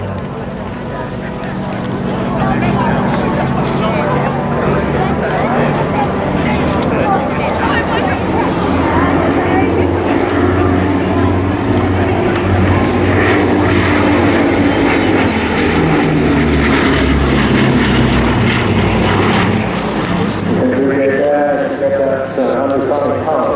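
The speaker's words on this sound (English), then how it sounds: "as we get an opportunity to appreciate the Blenheim solo in our display area" A Bristol Blenheim flies a solo display at the 2024 Eastbourne Airshow, its engines a loud, steady droning roar that holds for over twenty seconds, with a voice faintly present beneath.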